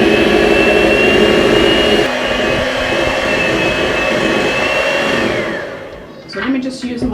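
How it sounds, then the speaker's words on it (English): An electric hand mixer whirs loudly and continuously through cupcake buttercream frosting, a steady high motor whine that winds down near the end, followed by a few faint clatters. "I'll mix with my hand mixer"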